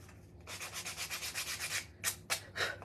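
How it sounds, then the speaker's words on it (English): A Gator electric sander rubs along the edges of painted wood blocks in a series of rhythmic rasping strokes, close and fairly loud, ending in a few separate passes. "I'm using my Gator sander"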